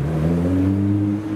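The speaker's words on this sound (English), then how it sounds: "There's a Nissan GTR downshifting." A Nissan GT-R engine drones loudly nearby, its pitch shifting as it downshifts, a steady rumbling roar throughout with no talk.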